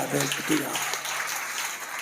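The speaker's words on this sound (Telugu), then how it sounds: "గట్టిగా చప్పట్లు కొడదాం, గట్టిగా." A church congregation claps loudly at a Sunday service, a dense, steady patter of many hands that fills the whole stretch with no break.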